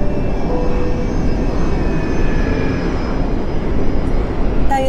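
A loud, steady airplane engine roar fills the cabin during a climb, a continuous broadband drone with faint tonal whines.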